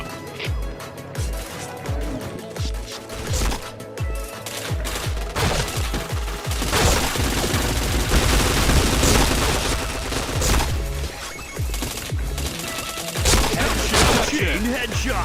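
Rapid bursts of automatic gunfire and single shots from a shooting video game, loud and dense, overlapping into near-continuous fusillades with heavy low booms throughout.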